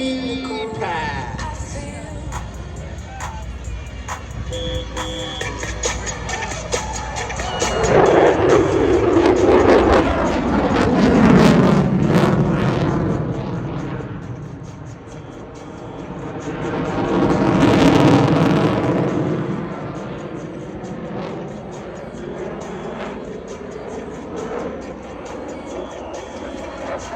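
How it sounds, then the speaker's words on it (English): Two loud jet roars from an F-22 Raptor using afterburners during an air show power loop and slow-speed pass, each swelling and fading as it sweeps past, with an announcer's voice faintly in the background. "the F-22 Raptors power loop to slow speed pass"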